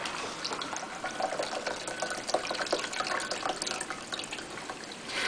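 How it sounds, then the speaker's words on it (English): Cosmopolitan cocktail poured into a glass, a steady thin trickling stream of liquid lasting several seconds, close and quiet, heard alone with no talk. "What you do is you just elegantly pour it into"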